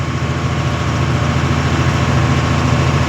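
A truck engine heard from inside the cab while driving on a four-lane road near Jogighopa, a loud, steady low rumble with constant vibration and no noticeable changes in pitch.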